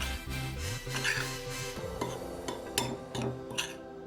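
Flour and baking powder being stirred together in a bowl for pancake batter, giving soft scraping and light clinks of a utensil against the bowl, steady and close, with no talk.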